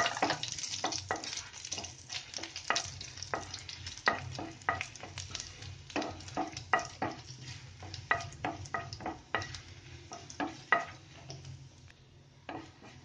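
Curry leaves and chopped garlic frying until light brown sizzle softly, while a spoon knocks and scrapes against the pan in a quick, uneven rhythm.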